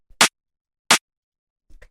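Two punchy, hard-hitting snare rim shots with a bit of saturation hit about 0.7 seconds apart in a liquid drum and bass pattern, each crack brief, bright and dense, followed by a faint bit of noise.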